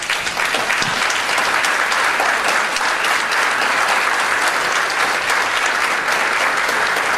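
Warm, sustained applause from an audience at an academic visit honoring a professor, a dense wash of clapping that stays loud and steady from start to finish with no voices on top.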